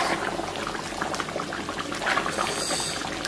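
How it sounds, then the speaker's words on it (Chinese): Braised pork belly with eggs, soy sauce and mushrooms simmers on low heat in a covered pot, giving a steady close bubbling and gurgling with a constant sizzling hiss throughout. "盖盖，咱们再给它咕嘟十几分钟。"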